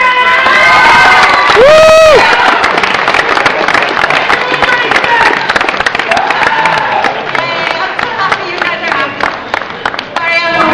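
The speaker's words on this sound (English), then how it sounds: "let's give it a big round of applause" Anime convention audience at a Pokemon music panel bursting into loud cheering and applause, with a whoop and shouts near the start, then sustained clapping and crowd noise.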